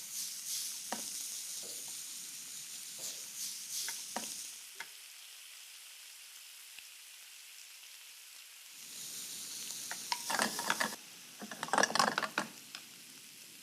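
Parsi onion-tomato masala (chhobat) with green chillies frying in a pan, soft intermittent sizzling and stirring scrapes, then a louder burst of crackling sizzle near the end.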